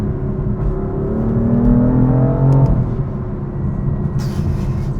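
A 2018 BMW M4 engine revs up and climbs in pitch, loud and close, then eases off into a steady rumble.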